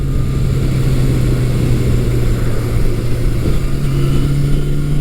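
A restored 1982 Suzuki GS750E four-cylinder motorcycle engine drones at a steady speed on a test ride, a loud continuous hum with wind rush and a slight pitch shift near the end.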